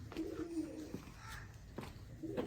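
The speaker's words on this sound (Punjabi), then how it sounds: "ਇਹ ਵੀ ਜੀ ਨੇਟਿਵ ਪਿਪਲਾ ਤੋਂ ਬਿਲੋਂਗ ਕਰਨ ਵਾਲਾ ਕਬੂਤਰ ਹੈ" A female native Pipla pigeon gives low, soft coos in a few short phrases, close by and alone, with faint background noise between calls.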